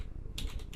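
A few quick keystrokes on a computer keyboard as a command is typed, close and soft clicks lasting under a second.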